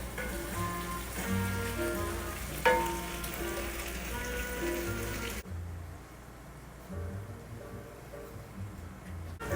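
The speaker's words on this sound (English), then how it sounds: "We'll let this saute for about another 10-15 minutes." Potatoes and onions sauté in a skillet for Lyonnaise potatoes with a steady, loud frying sizzle that runs throughout, with a brief clatter near the middle and the hiss dropping somewhat toward the end.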